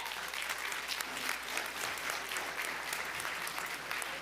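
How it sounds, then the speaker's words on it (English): Steady applause from an audience at a city commission meeting honoring student athletes, a continuous patter of many hands clapping at moderate, even volume throughout. "Let's give them a big round of applause."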